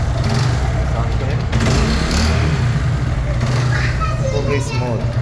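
A kick-start, carburetor motorcycle runs at a constant low rumble right up close, steady throughout, with children's voices and talk over it.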